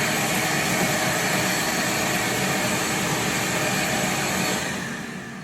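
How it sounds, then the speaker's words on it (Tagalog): A wet and dry vacuum cleaner runs continuously at close range, giving off a loud, steady broadband whoosh and motor whine. The sound eases slightly at the very end, and no one talks over it. "This is combination of wet and dry vacuum."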